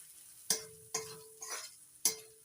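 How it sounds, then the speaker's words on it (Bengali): Mustard paste and garlic stirred in a pan over low to medium flame for a Bengali pomfret fish curry, a few sharp scraping clicks of a spoon against the pan over a faint steady sizzle. "3 মিনিটের মতো লো টু মিডিয়াম ফ্লেমে কষিয়ে নেব।"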